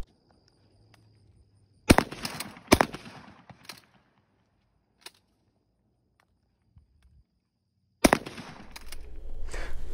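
Two sharp shotgun blasts from a J.C. Higgins model 20 slide-action shotgun ring out close together, followed by faint clicks and a third loud report later, with a rumbling tail after it.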